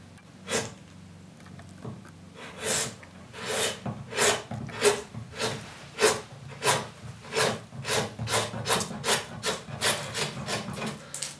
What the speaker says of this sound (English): You might even be able to hear that the sound of this one is saying I'm sharper.